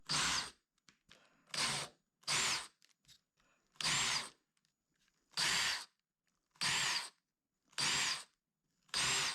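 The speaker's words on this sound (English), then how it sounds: "So I need to countersink those holes on top." A drill countersinking holes in a template for aluminum sheet forming buzzes in a run of short, even bursts, about eight in a row with brief pauses between, close and clear with no talking.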